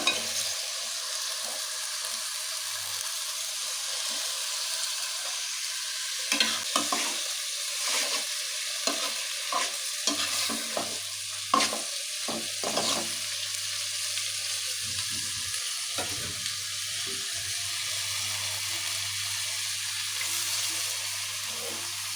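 Red amaranth greens fry and get stirred in a pan, a steady close sizzle broken by irregular scraping and clinking stir strokes, with no voices.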